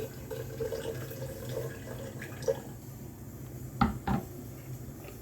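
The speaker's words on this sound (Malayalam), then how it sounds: "ഇച്ചിരി വിനാഗിരിയും കൂടി ഒഴിച്ചു കൊടുക്കാം കേട്ടോ" Vinegar poured into pickled bird's eye chillies, a faint trickling of liquid with a couple of light clinks of a container, close and quiet.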